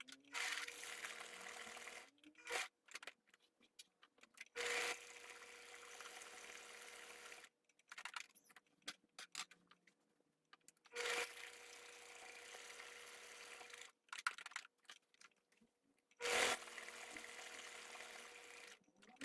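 A sewing machine runs a zigzag stitch along the appliqué edge of a cotton dish towel, sounding in several separate bursts of steady whirring with quiet pauses between them and no talking.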